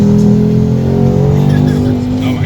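A powerful car engine revs hard under acceleration, a loud, close, sustained roar with a rising pitch and engine harmonics running through the whole stretch.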